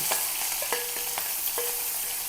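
Chopped onion, garlic and green chilli fry in hot oil in a pan, a steady close sizzle broken by a few sharp scraping stirs and clinks, with no talking.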